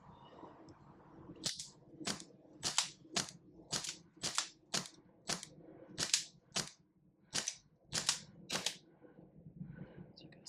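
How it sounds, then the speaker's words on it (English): An airsoft pistol powered by green gas fires about fifteen sharp, close shots in an irregular but fairly quick rhythm, each a crisp snap over a quiet background. "First, I will show you it firing with green gas."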